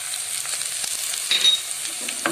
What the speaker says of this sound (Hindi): ये देखिए, लहसुन अदरक की भुनाई हो रही है